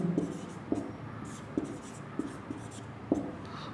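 Equations being written by hand during a maths lesson on linear equations, with a pen tapping and scratching in a steady rhythm of about five distinct strokes, fairly close and quiet.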